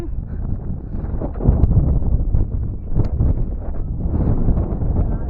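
Gusty wind buffeting outdoors at Dhodap Fort, a high hill fort in Maharashtra, rumbling low and rising and falling in strength, close and fairly loud.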